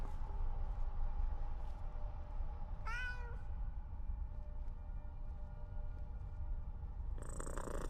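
Cat in the video game Skyrim, a low steady purr running throughout with one short meow in the middle, fairly quiet and close.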